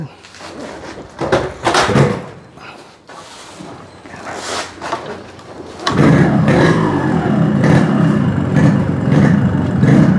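A Yamaha RX motorcycle is started and revved close by. Intermittent clatter and thumps come first, then a loud, sustained engine roar under people talking.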